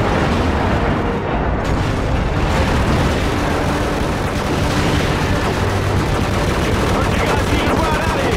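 Airstrike explosions in Call of Duty 4: Modern Warfare on Xbox 360 roar as a dense, continuous wall of booms and gunfire, loud throughout with no break.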